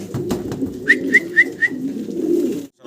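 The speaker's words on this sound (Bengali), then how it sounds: "দর্শক, এক পেয়ার লাহোরি কবুতর দেখাচ্ছি আপনাদেরকে" A pair of Lahori pigeons cooing close by in a continuous low, rolling murmur, with a run of four short, high whistle-like notes midway through.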